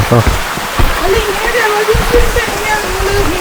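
A forest stream on the way to Agasthyarkoodam rushes and splashes steadily close by, with people talking over the flowing water.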